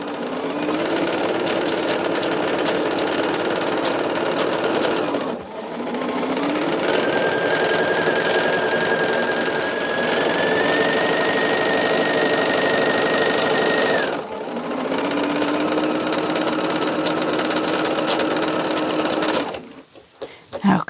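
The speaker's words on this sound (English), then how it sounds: "Now, I am sewing on that 1/4 of an inch seam." Sewing machine stitching quilt rows together on a quarter-inch seam, a steady continuous motor whir running in long bursts with brief pauses between, close and loud, with no talking.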